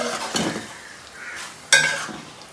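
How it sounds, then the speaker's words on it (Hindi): Chicken being stirred into a meat mixture in a cooking pot for achaar gosht, with soft scraping strokes over a steady sizzle and a sharper clatter of the spoon against the pot near the end. "अच्छे तरीके से इसको साफ करके अब हम इसको मिक्स करेंगे अच्छे तरीके से"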